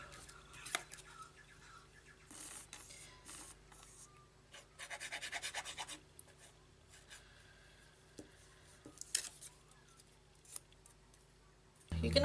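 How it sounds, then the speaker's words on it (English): Scissors trim around the rough edge of a napkin glued onto a chipboard art tile, making soft snips and scrapes in short, uneven bursts, with a louder cut near the end. "take your scissors and cut around that rough edge so that you've got a smoother edge"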